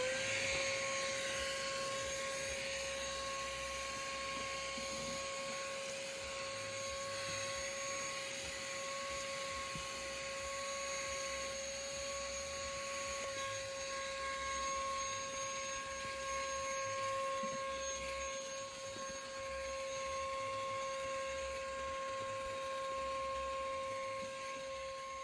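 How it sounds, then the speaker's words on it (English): A vacuum cleaner runs continuously while cleaning the floor of a neglected Mustang GT, a steady high whine with a constant tone and a faint rumbling underneath, brief pitch shift midway, moderately quiet, no talking. "we're going to vacuum it up"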